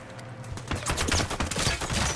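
Rapid, dense bursts of gunfire in a squad-based shooter video game, as enemies open fire, loud and continuous over a couple of seconds.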